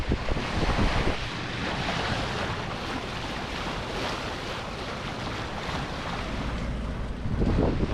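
Southerly wind by the sea off southern Gran Canaria roars as loud, continuous buffeting, with surf washing underneath and gusts swelling near the start and end.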